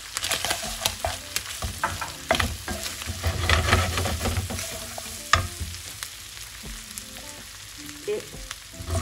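Shallots and garlic sizzle and fry in a pan, a steady close crackle broken by repeated scraping stirs and clinks of the utensil, with no talking.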